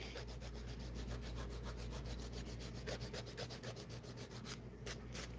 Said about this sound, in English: No, I'm gonna use a proper emery board.